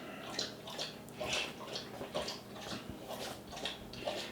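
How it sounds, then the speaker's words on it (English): Quiet, rhythmic wet lapping repeats steadily as a dog drinks water up close, with no voices. "that's my big baby boy Jack's having some water"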